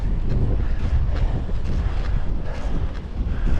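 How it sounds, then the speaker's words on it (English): Wind buffets the microphone while a cyclist rides into a headwind, a loud continuous low rumble with gusty fluctuations throughout. "Headwind,"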